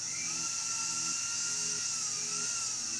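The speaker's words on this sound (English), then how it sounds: "I'm gonna use the sandpaper disc" A sandpaper disc on a rotary tool shaping a metal jewelry ring, heard as a steady, close, high-pitched whine with a slight wavering in pitch and no pauses.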